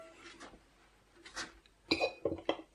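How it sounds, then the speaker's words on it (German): A spoon stirs rye flour and water into a thick sourdough paste in a container, giving soft scraping swishes followed by a few sharp clinks against the vessel, close and fairly quiet. "Verrühre das Ganze zu einem doch recht zähflüssigen Brei."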